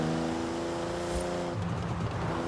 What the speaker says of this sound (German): Und beim 2000 GT möchte ich konsequent das Gas loslassen und den Motor lauschen.